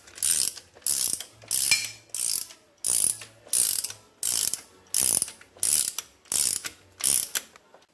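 Ratcheting wrench tightening the original locking nuts on a 1948 Ford 8N tractor during a rear-end rebuild: about ten sharp, evenly spaced ratchet bursts, close and loud, with no talking.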